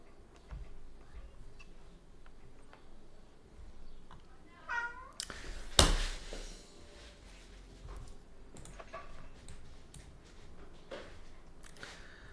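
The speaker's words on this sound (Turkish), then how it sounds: "Miyav mı?" Cat meowing softly in an indoor room, a few faint short meows near the middle amid light ticking and low background hum, with a sharp loud click just after.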